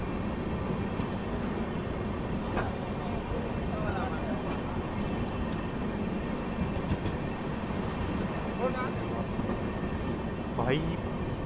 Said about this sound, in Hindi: शाम के 7:30 बजने वाले हैं और अपना अराइवल हो रहा है इंदारा जंक्शन रेलवे स्टेशन पे